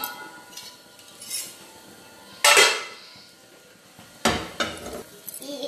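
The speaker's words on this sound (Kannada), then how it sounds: "ಸ್ವಲ್ಪ ಫ್ರೈ ಮಾಡಿ ಲಿಡ್ ಓಪನ್ ಮಾಡುವ" A metal lid is lifted off a pan while a masala omelette fries, giving two sharp clattering clanks of metal on cookware, with a faint sizzle and small clinks between them.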